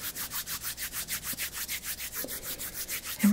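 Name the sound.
rubbing oil into hands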